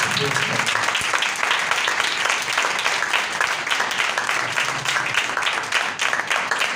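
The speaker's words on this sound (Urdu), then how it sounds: "ہم کافی تالیاں بجا رہے ہیں" A church congregation applauds together during a Sunday morning service, steady dense clapping sustained throughout with a faint murmur of voices underneath.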